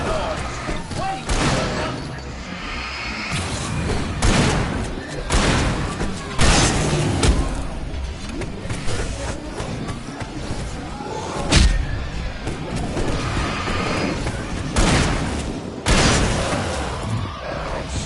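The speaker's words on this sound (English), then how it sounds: "Lots of fireworks here." Fireworks in the Alan Wake video game burst in repeated loud booms and crackling volleys, dense and overlapping throughout, with a voice talking over them at times.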